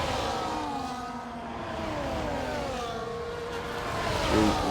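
Racing cars in a Formula 1 racing game, a Red Bull and a McLaren, drone past on track with layered high-pitched engine whines that rise and fall in pitch, steady and fairly loud, swelling near the end.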